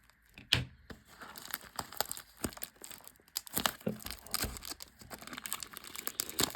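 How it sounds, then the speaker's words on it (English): Scissors snip and tear at the plastic wrap on a Yu-Gi-Oh! booster box, giving close crinkling and crackling bursts in an irregular rhythm. "I had to get my scissors to open this because this plastic wrap is very annoying."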